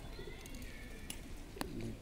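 Soft pigeon coos sound nearby in a quiet setting at a holy site in Malinithan, Likabali, Arunachal Pradesh, a low throaty murmur with a couple of faint clicks.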